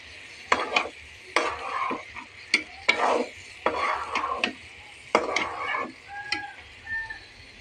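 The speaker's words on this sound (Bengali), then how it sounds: "এখন আমি কলিজাটাকে ঢেলে দেব, আবার ভালো করে একটুখানি কষিয়ে নেব।" Beef liver stir-fried with spices in a pan, with potatoes to come: repeated bursts of spatula scraping and stirring in a steady rhythm over a soft sizzle, close and fairly loud, with no talking.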